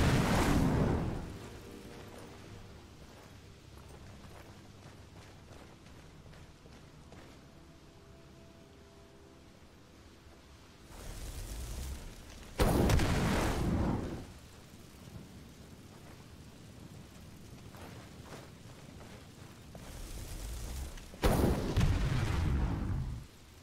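A fire spell cast in modded Skyrim roars in two loud, sustained whooshing bursts of flame, each lasting about a second or two, over a low ambient rumble.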